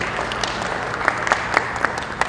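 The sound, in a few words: audience applause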